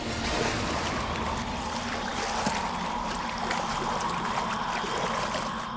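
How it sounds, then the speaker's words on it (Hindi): Continuous rushing, splashing water flows steadily like a nearby river, loud and unbroken, with no voices over it. "ये आवाज कैसी थी? पानी पानी पानी की आवाज"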